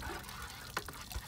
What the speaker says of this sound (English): We're just running cold water through it.